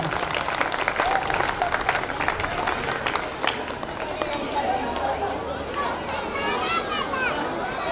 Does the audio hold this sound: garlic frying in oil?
no